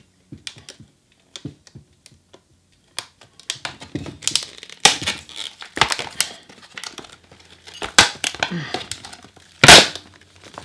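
Scissors snip and crinkle wire wheel packaging open at close range, with sparse clicks building into busy rustling and cutting, and a loud crackle near the end while a person talks.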